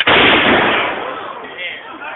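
A volley of muskets fired together at a historical reenactment: one loud, sharp blast that rolls and rumbles away over about two seconds.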